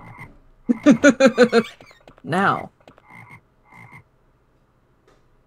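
Frogs croak in a video game run, a quick series of loud, close croaks followed by a longer croak and a few fainter calls, with a brief spoken word and silence trailing off.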